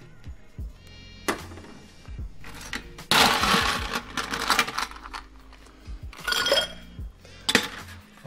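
Ice cubes clink and rattle against glass as Poet's Dream cocktails with Benedictine and orange bitters are stirred in mixing glasses, close up, in uneven bursts of rapid clinking separated by quieter gaps.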